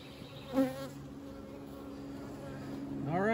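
A steady buzz of many honey bees swarming close by during a hive inspection, with individual bees whining past at varying pitches.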